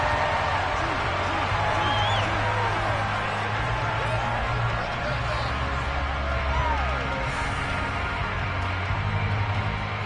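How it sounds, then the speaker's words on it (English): Stadium crowd in the Madden football video game, a steady roar of many voices with scattered shouts and whoops filling the whole stretch at a loud, even level. "Plenty of shouts from this crowd as they watch the replay."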